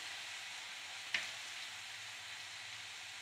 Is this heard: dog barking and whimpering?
no